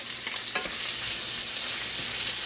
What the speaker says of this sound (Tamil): இந்த வெங்காயம் கொஞ்சம் பொன்னிறமாக வர அளவுக்கு ஃப்ரை பண்ணால் போதும்